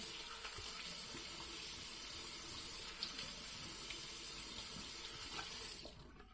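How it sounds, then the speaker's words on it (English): A sink tap runs steadily while a face is rinsed, giving a close, continuous splashing hiss that cuts off sharply at the end as the water is shut off. "Let's rinse off one more time"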